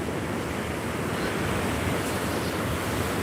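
Ocean surf breaking on a beach beside coastal dunes, a steady broad wash of waves with wind noise buffeting the microphone throughout, no voices.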